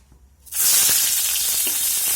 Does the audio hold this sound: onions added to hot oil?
yes